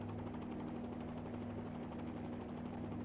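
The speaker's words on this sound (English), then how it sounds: "I will really simulate the engine failure, so I will switch off" Helicopter engine and rotor drone from a flight simulator video game, heard as a continuous, fairly quiet, steady mechanical hum with no speech.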